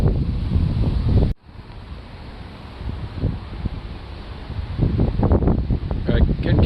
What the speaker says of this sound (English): going to need to be kind of careful about the random gust of wind that comes up